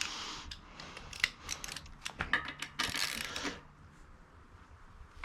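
A socket wrench ratchets on the peg bolts of a Sunday Blueprint BMX bike, bursts of quick metallic clicks and light clanks up close, then fading to a quiet background, with no talk.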